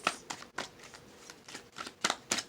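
Tarot cards shuffled by hand in a series of crisp riffling bursts, about seven quick papery flutters spread unevenly, close and moderately loud with short pauses between.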